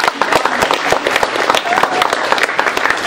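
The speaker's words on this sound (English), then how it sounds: "Can you clap it up?" Audience clapping at a church gathering: a dense, steady wash of many hands at close-to-mid distance, sustained evenly through the whole stretch with little variation.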